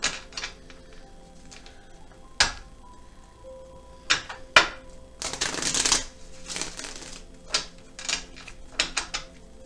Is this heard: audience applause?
no